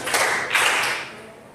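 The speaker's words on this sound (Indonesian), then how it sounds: "Tepuk tangan 3 kali." Hands clapping in a classroom setting, two sharp bright claps heard close and loud, the second trailing off into fading room echo, with no voices.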